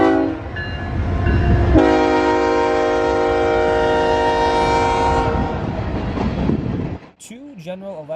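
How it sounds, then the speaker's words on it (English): A BNSF empty coal train led by GE ES44AC and EMD SD70ACE locomotives sounds a loud, sustained multi-note horn blast for several seconds over rumbling engines, then a brief burst of chirping birds follows. "General Electric ES44AC locomotives bracket and Electromotive SD70ACE on this train."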